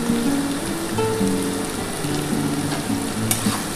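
Cauliflower stems, flat beans and potatoes fry loudly in a pan with a little sugar, giving a dense, continuous close sizzle with faint stirring scrapes and no voices.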